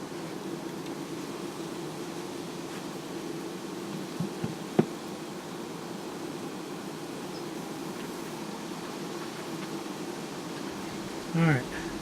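Bees in a beehive buzz as a steady, dense hum throughout, up close and fairly loud, with a few small knocks and one brief louder sound near the end.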